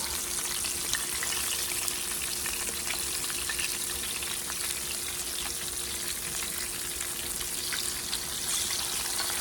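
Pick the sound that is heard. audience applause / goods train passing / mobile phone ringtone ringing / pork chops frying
pork chops frying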